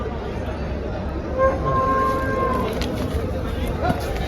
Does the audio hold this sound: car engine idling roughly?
no